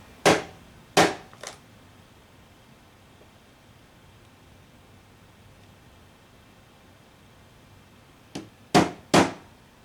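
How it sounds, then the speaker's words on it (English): A lightweight hammer taps a center punch on sheet metal: three sharp metallic strikes close together, a long quiet pause, then three more, loud and close. "Notice I'm using a lightweight hammer."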